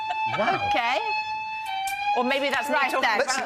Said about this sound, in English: Oh, I think that's our fire alarm.